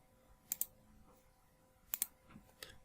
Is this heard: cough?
no